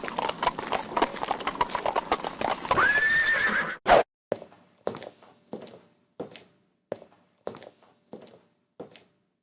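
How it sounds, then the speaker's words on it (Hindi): A horse gives a long, loud neigh over a rough scraping clatter, then its hooves clip-clop in about eight slow, evenly spaced steps that ring out alone against silence. "व्यापारी अपने घोड़े पर बंदरगाह पहुंचा।"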